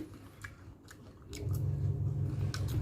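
Crunchy sea grape seaweed salad with crisp baked chili being chewed close up, a steady munching that grows louder and denser partway through, with no talking.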